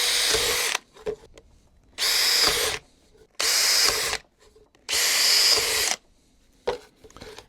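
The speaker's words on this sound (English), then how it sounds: "drill a hole" A power drill bores holes into a wooden board for a mason bee house in four loud, close bursts of whining, each lasting under a second, separated by quiet pauses, with a short final burst at the end.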